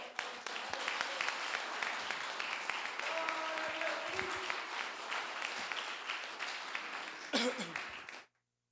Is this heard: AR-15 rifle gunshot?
no